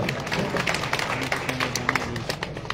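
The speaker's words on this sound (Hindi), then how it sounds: "तालियां बजाओ भाई।" A crowd at a rural political gathering claps in welcome for an agriculture minister, a dense, continuous patter of hands steady throughout over a low background hum.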